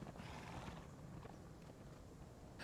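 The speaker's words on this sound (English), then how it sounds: "I shall tend to the horse." A horse in the video game Conan Exiles, a faint, muffled huff and snort with soft hoof shuffling in a low, steady ambience, no speech.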